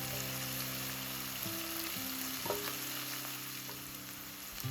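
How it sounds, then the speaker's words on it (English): Onions sautéing in a pan for a Chettinad chicken curry, a steady broad sizzle running throughout with low hum tones behind it and occasional soft stirring scrapes, close and fairly quiet, no voices. "saute this onions well. Let it cook for 2 to 3 minutes"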